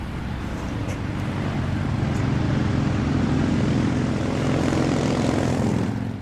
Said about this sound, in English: Adam, they're Harleys. They're supposed to be loud